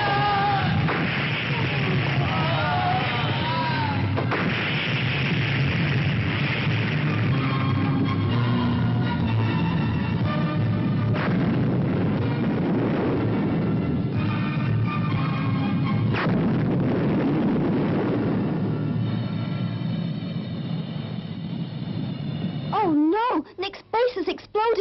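Explosions and fiery blasts in a sci-fi animation, dense booming and crackling with a dramatic music score, ending in warbling sci-fi effects. Voices are heard over it.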